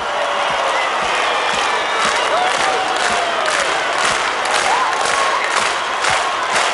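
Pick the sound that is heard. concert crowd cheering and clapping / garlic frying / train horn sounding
concert crowd cheering and clapping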